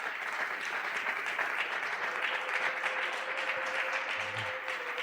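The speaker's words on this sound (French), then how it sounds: "Est-ce qu'on peut acclamer très fort le Seigneur?" Church congregation applauding at a Sunday praise and thanksgiving service, a steady, dense wash of clapping that holds evenly for the whole stretch at moderate distance, with no voices over it.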